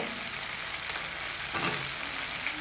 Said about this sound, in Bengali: মশলাটা আমাদের ততক্ষণ পর্যন্ত কষাতে হবে যতক্ষণ না পর্যন্ত এর থেকে কাঁচা গন্ধ চলে যায় আর তেলও ছেড়ে আসে